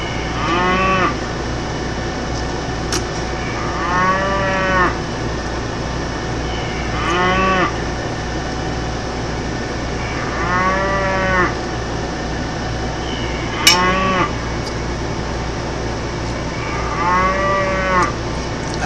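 Cattle in Farming Simulator 2015 moo repeatedly, long drawn-out lows every few seconds over a constant farmyard background hum, fairly close and alone without talk.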